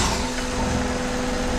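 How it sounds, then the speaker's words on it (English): Car engine idling roughly just after starting during vacuum testing, with a steady droning hum and a faint whine holding evenly through the short stretch. "reconnect our connector, start the car, and I may need to give it a little bit of throttle here to start"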